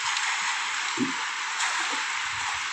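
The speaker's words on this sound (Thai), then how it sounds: "คลื่นลมแรงมากนะครับ" Strong wind and sea waves at a seaside temple on Koh Phayam in Ranong, a steady broad wash of wind and surf with a few faint low thumps.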